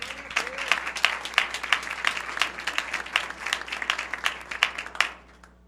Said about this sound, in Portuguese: Dá uma salva de palmas para o teu Senhor.